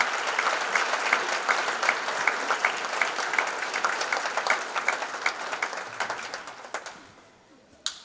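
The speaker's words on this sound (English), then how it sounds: "How about one more round of applause for Kathleen?" An audience at a school hall of fame ceremony applauds an inductee with a dense round of clapping that holds steady, then thins out and fades to a few last claps.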